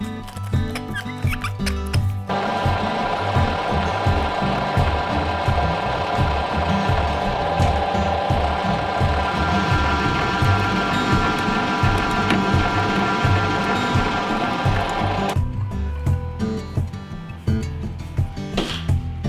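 A metal lathe cutting fitting threads runs as a continuous mechanical whir with a dense layer of ticking and chatter. The cut holds steady and loud through the middle, then drops back to quieter spindle noise near the end.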